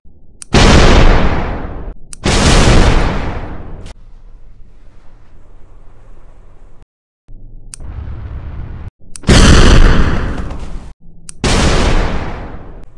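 Heavy booms and blasts from a ship battle strike in repeated loud bursts, each followed by a decaying rumble, with a lower sustained roar between impacts.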